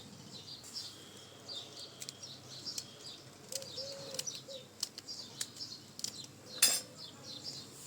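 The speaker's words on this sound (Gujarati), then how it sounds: "ખાંડી લઈશું આ મરચાંને પણ," A green chili pounded in a mortar along with garlic cloves for a chutney, faint, sparse sharp knocks at irregular intervals against quiet room tone.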